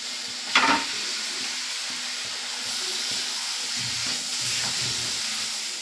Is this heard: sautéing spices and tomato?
yes